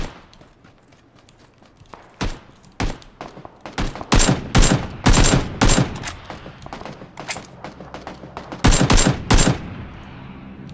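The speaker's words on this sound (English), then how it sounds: "They're shooting at me." Bursts of rapid gunfire in PUBG ring out in short volleys, some sharp single shots early and then dense, loud automatic strings clustered together, fairly close, with faint movement between bursts.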